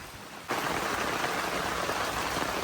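Rain at a primitive campsite beside a campfire starts up partway through and becomes a steady, even hiss of falling drops, moderately close, with no voices.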